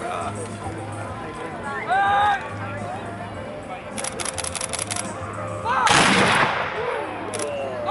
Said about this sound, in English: Don't forget, if it's one volley, it should sound one.